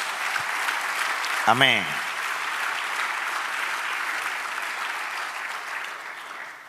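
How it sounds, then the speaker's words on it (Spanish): A congregation in a church applauds steadily, a broad even patter of clapping that carries on for several seconds, with a single voice calling out briefly near the start. "Dale un aplauso al Señor, el bueno y el generoso."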